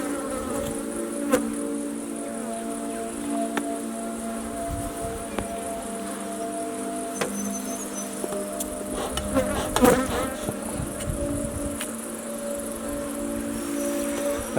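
Honey bees swarm around an opened hive box, buzzing steadily and close with layered droning tones, while occasional sharp clicks and handling noises break through the constant hum.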